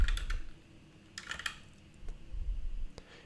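Computer keyboard typing in quick bursts of clicky keystrokes, a flurry at the start, another around the middle and scattered taps after, close and moderately loud with no talk.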